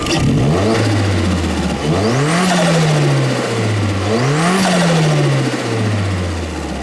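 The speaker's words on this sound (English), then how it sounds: "let's whack the camera this side and then we'll do another rev" Vauxhall Astra VXR engine revs hard twice from a rough idle, each blip rising to a loud roar and then falling back, heard close with no talk.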